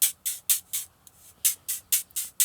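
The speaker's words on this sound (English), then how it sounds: "So I like to add a small white noise to it," Short bursts of flanged, toneless white noise pulse in a rhythmic pattern, bright hissy hits, about ten in quick succession, used as a layer for synthesizers.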